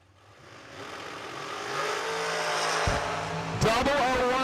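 Dragsters at a drag racing event. Engine noise swells and builds toward a loud roar as cars launch, then a sharp blast of revving bursts in near the end. An announcer talks over it.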